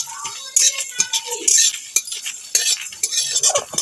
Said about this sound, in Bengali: মশলাগুলোকে ভেজে নেব।